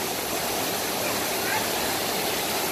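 A waterfall in a resort water area at Atlantis in the Bahamas gives a steady, full rush of falling water, heard nearby and without a break.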